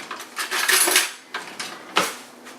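Metal utensil clinking and scraping against a bowl while regular green food color is mixed into cake icing, a run of close, irregular clatters and taps with brief pauses between.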